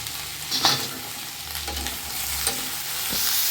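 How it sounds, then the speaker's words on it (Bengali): Long beans stirred and lightly fried with turmeric in a small amount of oil, giving a steady soft sizzle with a few scraping stirs of a spatula in the pan, close and moderate in level, with no talking. "সুন্দর করে নেড়ে চেড়ে এটা রেখে দেবো, একদম হালকা হালকা করে একটু ভেজে ভেজে নেবো"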